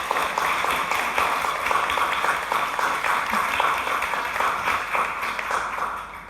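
Audience applause welcoming speakers at a poetry talk: sustained, evenly textured clapping from a modest crowd, steady and fairly close throughout with a slight fade at the close.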